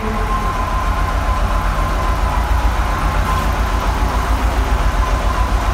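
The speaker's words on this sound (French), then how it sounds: "la voiture a démarré nickel" A Ford Scorpio, just fixed with a new fuel pump, idles after starting, a steady low engine rumble held close and even throughout.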